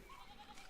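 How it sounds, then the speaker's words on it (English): A sheep in the medieval Bavarian setting of the game Pentiment bleats once, a faint wavering quiver lasting under a second against quiet background ambience. "Some sheep that won't let us through."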